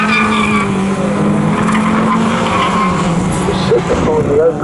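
MG race cars, MGFs and MGZRs, battle side by side at Snetterton circuit: loud, continuous engine roar with squealing tyres close by, while a commentator talks over the action.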